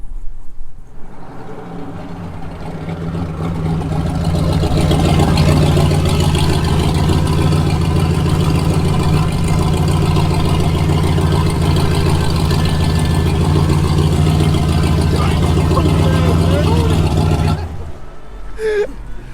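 A turbocharged, nitrous-equipped Chevy engine runs on a dynamometer, holding a loud, steady, heavy drone at around 2,600 RPM that ends abruptly near the close, with little talk beneath it.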